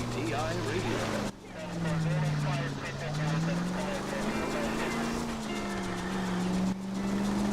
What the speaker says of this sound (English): you can really hear that car hum